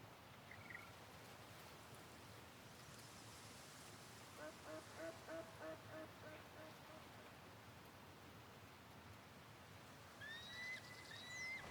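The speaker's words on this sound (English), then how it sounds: "A 4-star duck, mellow." A duck calling in a video game's shoreline wilderness, faint and distant, giving a few short quacks over a constant hiss of ambient noise, with quiet talk nearby.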